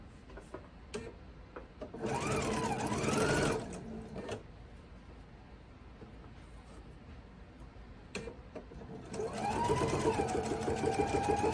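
A sewing machine runs in two bursts, stitching back over a quilt block seam for a seaside quilt; a steady mechanical whir with faint ticking between the runs, close by and without speech.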